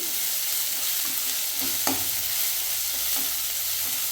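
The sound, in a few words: tomato frying in oil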